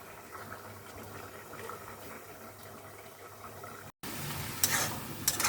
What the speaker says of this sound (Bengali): এদিকে আমি একটু লুডুস রান্না করতেছি, সবজি লুডুস।